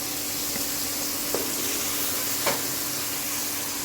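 Tamarind pulp added to a pan for a sweet, sour and spicy pickle, making a soft, even hiss with two brief stirring clacks, faint and close.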